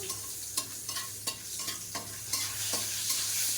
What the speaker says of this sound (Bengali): মশলাটা একটু ভাজা হয়ে গেলে ভেবেছিলাম সেদ্ধ করব